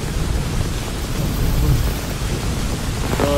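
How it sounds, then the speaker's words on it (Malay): Sudden heavy rain with thunder pours down on a campsite tent, a dense, steady roar of rainfall with low rumbling thunder swelling underneath, loud and continuous throughout. "So tiba-tiba hujan memang lebat lah turun."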